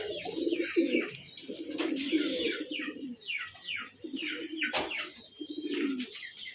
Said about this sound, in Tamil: கர்ணப்புறா இது ஒரு பேர் இருக்குது.